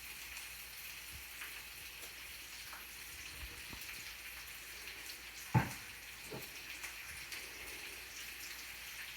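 Onions caramelizing in olive oil in a pan give a soft, steady sizzle and faint crackle, quiet throughout, with one sharp knock of utensil on pan midway.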